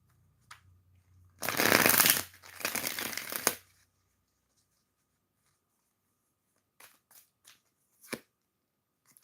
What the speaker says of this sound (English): Get a riffle shuffle in here.